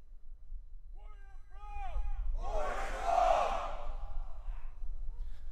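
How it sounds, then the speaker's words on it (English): Military academy cadets at a change of command parade shout a unison cheer, one loud group yell rising after a voice calls out, then fading into outdoor ambience. "with the cheer, Warrior Proud."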